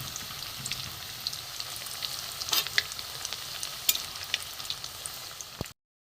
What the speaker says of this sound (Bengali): কয়েকটা একসাথে ভেজে নেব